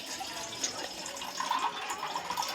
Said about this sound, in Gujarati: એમાં પાણી નાખશું